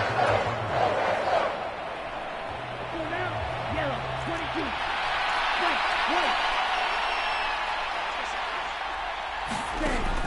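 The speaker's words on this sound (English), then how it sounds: "How about some applause for the defense there?" Crowd in a PS4 football video game: a broad, sustained roar and applause from a stadium audience swells throughout, with a commentator talking over it.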